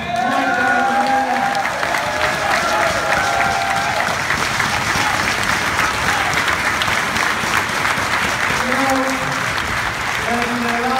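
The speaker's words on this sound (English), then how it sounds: "I just want a big round of applause." Crowd at a wrestling TV taping applauds and cheers in a sustained, roaring wave, with someone speaking over it at the start and again near the end.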